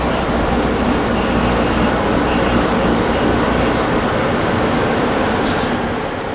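A National Rail locomotive strains to start a heavy train on a steep grade without sanded track, giving a loud, steady low rumble and grinding roar that holds without a break, with a brief high hiss near the end.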